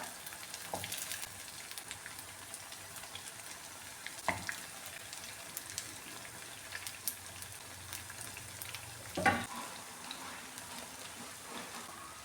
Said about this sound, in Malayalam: ഇതിൻ്റെ രണ്ട് സൈഡും ഒന്ന് തിരിച്ചിട്ട് ഒന്ന് ഫ്രൈ ആക്കി എടുക്കാം